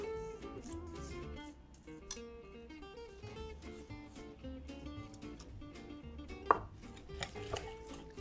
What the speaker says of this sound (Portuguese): E agora eu vou substituir a minha espátula por um batedor de arame para misturar melhor.